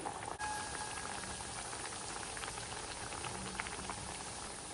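Millet flour (bajri) vada fry in hot oil over a medium flame, a soft, even bubbling sizzle with light crackles, quiet and continuous, no voices.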